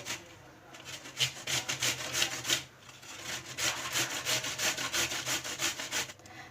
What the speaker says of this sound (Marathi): तर हा दुधी भोपळा आपला अशा प्रकारे हा खिसून घ्यायचा आहे।